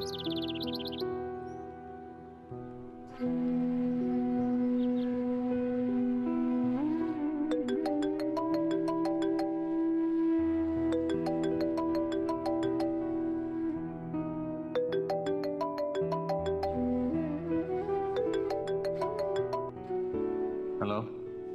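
A phone ringtone rings during a Pakistani drama scene: a bright electronic melody with bursts of chirpy high notes repeats steadily for about twenty seconds, with no speech over it.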